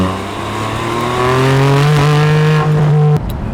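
Porsche Spyder engine wound up hard on a track toward its 8,000 RPM redline, a loud, close, rising mechanical wail that climbs steadily and then cuts off abruptly.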